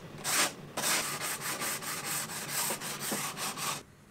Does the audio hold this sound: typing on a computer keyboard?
no